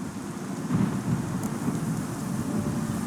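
A thunderstorm in The Witcher 3 video game, with steady rain hiss and low rumbling thunder rolling underneath throughout.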